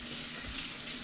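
Warm water runs from a kitchen tap, a short steady gushing stream close by with no voices.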